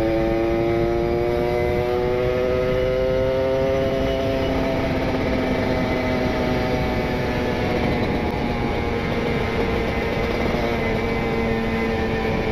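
A Kawasaki Ninja RR two-stroke with a wet PWK28 carburetor setup and an R9 Neo Muggelo carbon exhaust roars loud and close, its revs climbing for several seconds before holding a steady high-pitched drone.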